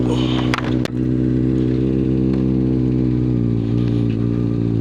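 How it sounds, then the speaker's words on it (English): A 2025 Kawasaki ZX6R idles steadily with a loud, close, buzzy drone, with a couple of brief clicks or clunks near the start and no talking. "Let's take the 2025 ZX6R for first ride's impression"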